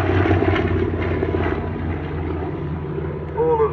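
A seven-ship formation of vintage warbird aircraft, including types like the Avenger and T-28 Trojan, flying past at an airshow, producing a continuous loud droning propeller-engine roar with no pause.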